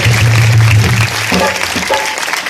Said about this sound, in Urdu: زوردار تالیاں اس بڑے معجزے کے لیے